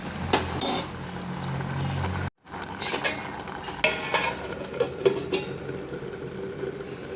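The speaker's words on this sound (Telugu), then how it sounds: "ఇలా మొత్తం కలిసేలా బాగా కలుపుకోవాలండి" Gongura tomato curry is stirred in a pot, a utensil scraping and clinking against the metal in close, irregular strokes with a brief pause partway through and a faint simmer beneath.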